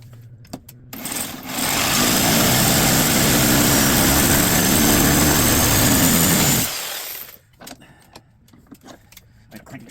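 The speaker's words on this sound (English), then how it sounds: "You keep it close to the edge so you can put the sawzall directly on it is the best way to do it." Reciprocating saw cutting into a transformer, a loud rough buzzing burst of about five seconds that starts and stops abruptly, framed by clinks and handling noises.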